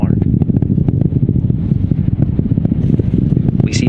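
The Artemis II rocket's main engines and solid rocket boosters roar during launch, a loud, deep, crackling rumble with rapid pulsing that stays dense and heavy throughout.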